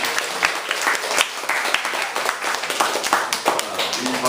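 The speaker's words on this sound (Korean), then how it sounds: "우리 박수 한번 하십시다" A church congregation at a family worship service claps together for the children, a lively burst of many hands with some individual claps standing out, fairly close and sustained for about four seconds, with a faint voice underneath.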